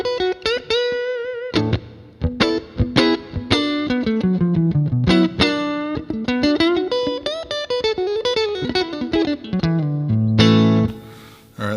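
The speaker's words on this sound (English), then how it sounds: "So we're going to turn the reverb on first and see how that does." Electric guitar on a Tech 21 RK5 Fly Rig clean amp setting with reverb switched on, picked notes and chords ringing with a lingering tail, loud and close, no voices.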